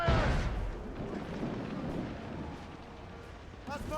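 Ship cannons fire in Assassin's Creed Rogue, opening with a heavy booming volley that rolls off into a long rumbling decay over wind and sea noise, with a voice briefly near the end.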